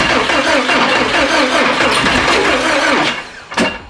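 A boosted 86's engine cranks over and over in the cold, a close, rough rhythmic churning that sputters and cuts out near the end, with no one talking.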